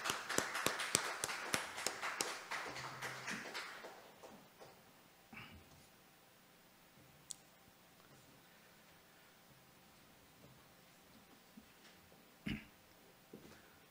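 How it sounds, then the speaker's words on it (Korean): A church congregation applauds after a hymn, a dense burst of handclaps for about four seconds that thins and fades, followed by a quiet room with a couple of isolated knocks. "참 좋은 친구 되신 우리 예수님께 영광의 박수를 드리겠습니다."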